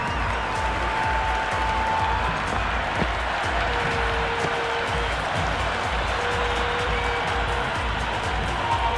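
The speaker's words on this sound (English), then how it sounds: "The crowd are loving every minute of this match." In the Cricket 26 game, during an RCB vs KKR match, a stadium crowd keeps up a steady, dense wash of applause and cheering that holds at a constant level throughout, with faint sustained tones running through it.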